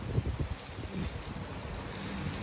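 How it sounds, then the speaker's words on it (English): Rain falls outdoors by a lake in a soft, steady patter mixed with gusty wind noise, close and fairly faint throughout. "Oh my God, I can't believe it's raining."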